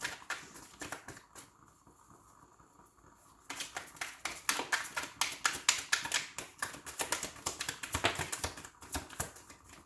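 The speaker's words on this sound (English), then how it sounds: "If you don't like the card shuffling, please fast forward." Tarot cards riffle and flick in quick, crisp rapid-fire bursts, starting quietly and growing louder and denser, with no talking.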